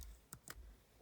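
Two quick, faint keystroke clicks on a computer keyboard, evenly spaced and close, in an otherwise quiet room.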